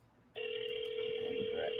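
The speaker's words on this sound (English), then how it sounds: "Able to hear the phone call ringing?" A telephone rings with a steady electronic tone that starts abruptly and holds, clear and fairly close, with no talk over it.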